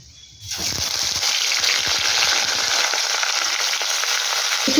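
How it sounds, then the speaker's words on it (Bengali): Boiled taro stolons hit hot oil with fried garlic, setting off a sudden loud, hissing sizzle after a brief quiet start that then crackles steadily and evenly to the end. "রসুন বেশ ভালো করে ভাজা হয়ে গেছে এবার দেব আগে থেকে সেদ্ধ করে রাখা কচুল্লতি"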